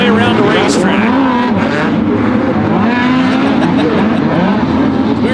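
USAC midget race cars on the Merced Speedway dirt oval, the Abacus Racing number 57 car punching the throttle: loud, continuous high-revving engine roar with rising and falling pitch as cars pass, under energetic commentary.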